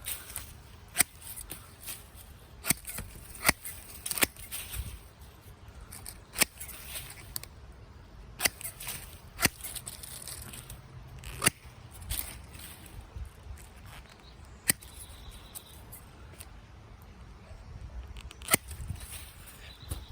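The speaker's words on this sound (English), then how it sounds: "I would just keep cutting, trimming all these off." Hand shears snip and trim the leaves of an old sago palm outdoors, sharp isolated clicks and cuts spaced irregularly over quiet background, fairly faint and close.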